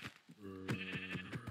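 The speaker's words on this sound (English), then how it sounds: "that's a sheep" Minecraft sheep bleating, a few short wavering bleats in quick succession, close and clear, with no talk over them.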